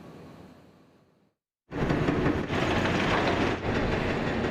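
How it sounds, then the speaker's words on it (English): Rail construction crews at work on the Gateway tunnel project, a steady loud rumble and clatter of train and track equipment nearby after a brief silent gap, with no voices. "That's the sound of working on the railroad."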